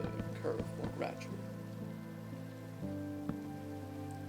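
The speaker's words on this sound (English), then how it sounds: "This stops any water from dripping through when it's raining like this" Rain falls on a house in the Minecraft video game as a soft, steady hiss beneath tonal background music, while a voice talks over it.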